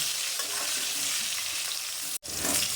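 Plantain pieces seasoned with salt and turmeric fry for neem shukto, giving a dense, close sizzle with soft stirring scrapes and one brief cut-out near the end. No one speaks.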